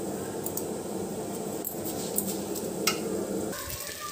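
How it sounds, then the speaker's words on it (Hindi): Small-grain rice roasting in refined oil in a degchi over a high flame for chicken biryani, a soft steady sizzle with occasional stirring scrapes and light clinks, no talk. "इन्हें हमें अच्छे से भून लेना है हाई फ्लेम करके"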